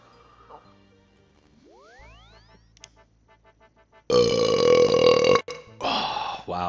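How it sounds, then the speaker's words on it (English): A loud, deep, drawn-out burp bursts in after a stretch of game bleeps and a springy boing, lasts over a second, then a shorter second burp follows, with no talking. "It was a heartier burp."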